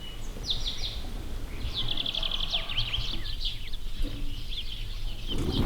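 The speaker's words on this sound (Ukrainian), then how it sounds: "А іще звуки, постійна симфонія дикої природи. Просто послухайте." Birds chirp and trill outdoors in the spring countryside of a village, several quick rising calls over a soft, steady background hush, fairly distant and gentle.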